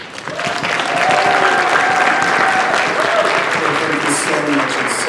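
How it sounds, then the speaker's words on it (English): Convention crowd at Everfree Northwest breaks into a big, sustained round of applause welcoming a guest to the stage, dense and loud throughout with a few cheers and whistles rising over the clapping. "Please give a huge Everfree Northwest round of applause to Joe Cunningham."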